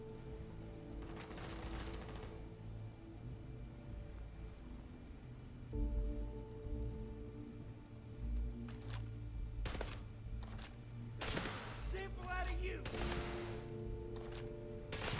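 Scattered bursts of gunfire from the game Starfield crackle at a low level amid a droning background, coming in short clusters with quieter gaps between them.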